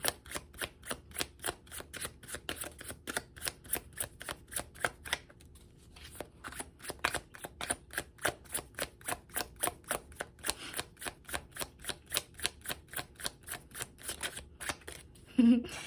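A deck of tarot cards being shuffled by hand: steady rapid riffling bursts repeating close up for the whole stretch, with a brief pause midway and a louder knock at the end.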